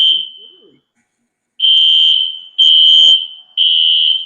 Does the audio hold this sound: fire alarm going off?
yes